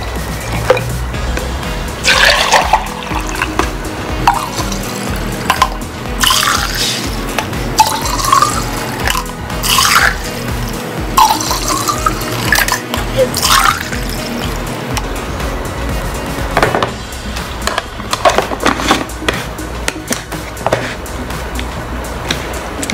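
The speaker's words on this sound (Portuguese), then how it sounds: "Agora eu vou misturar com a água que eu deixei reservada." Water poured from a container into an Omnilife Fiber and Aloe detox drink mix, with repeated liquid filling and trickling bursts over a steady background, fairly close and without talk.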